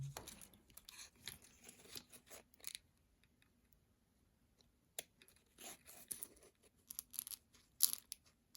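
Scissors snipping through paper while cutting out parts for a paper CRJ-200 airplane model, several close, quiet bursts of crisp cuts separated by short pauses.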